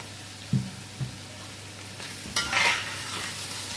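A spoon stirring capsicum in a frying pan for Chinese masala rice: a few distinct scrapes and clinks, the last longer and busier, over a faint background sizzle.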